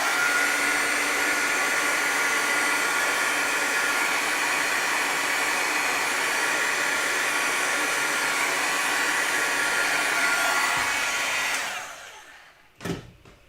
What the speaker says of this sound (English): I am going to hit that with a heat gun for a second just to make sure before we start doing the background that it's nice and dry